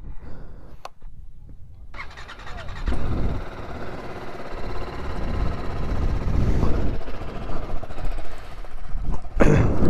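A motorcycle engine idles while warming up on a chilly morning at a Lambasingi campsite with light mist falling, a steady close rumble running under most of the stretch after a brief quiet start.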